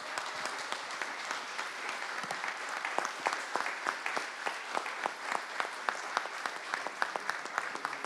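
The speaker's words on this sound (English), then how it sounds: "So please a big clap for Paula." An audience at a workshop presentation applauds for a colleague, a steady dense patter of many hands clapping throughout, moderately distant, with a few sharper claps standing out near the end.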